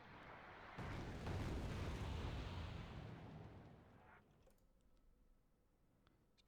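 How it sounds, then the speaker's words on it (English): Anti-tank guided missile launches and explosions in the strategy game Wargame Red Dragon: a dense, rumbling broadband roar of blasts that swells for a few seconds, then fades into quieter scattered distant pops and clicks. "ATGM fire"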